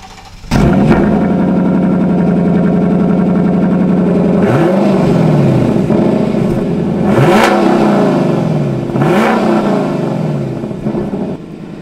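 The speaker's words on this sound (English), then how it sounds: "man, does it sound awesome coming out the tailpipes" A 2021 Lexus LC500 Convertible with a 10-speed automatic roars loudly from its tailpipes, one long sustained rev followed by three sharp blips that rise and fall in quick succession, close and alone.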